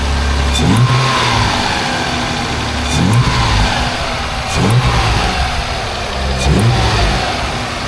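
Mazda 323F V6 engine with newly fitted induction, revving up in four repeated throaty bursts that rise and fall over a steady idle, loud and close with no talking.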